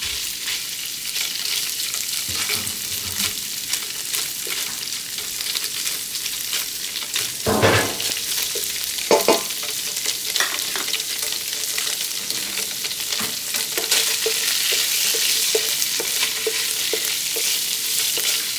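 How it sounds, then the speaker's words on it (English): Tofu pieces frying lightly in a pan for a vegetarian tofu noodle dish, giving a steady close sizzle with occasional stirring scrapes and louder bursts, no talking. "Just you want to slightly fry it because you don't want very strong tofu taste, raw taste."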